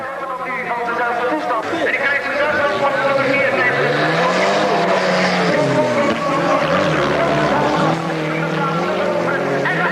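Rallycross race cars at the 1986 European championship roar along under heavy braking, with shifting engine notes, tire squeal and skidding. Loud and close, with a commentator talking over them throughout.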